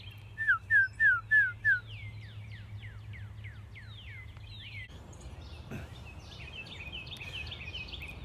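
Northern cardinal whistling song in a backyard: a short run of loud, clear, downslurred whistles near the start, followed by a long series of fainter repeated slurred whistles. Other birds call softly over a steady low hum.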